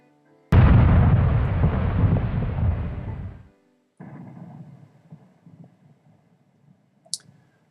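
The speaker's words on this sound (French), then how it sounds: "La montée s'accompagne d'explosions. Le monstre crache à intervalles réguliers." A single explosive eruption from the Stromboli volcano bursts out loudly, roars for about three seconds and cuts off. A lower, rumbling aftermath follows, then a brief faint crack near the end.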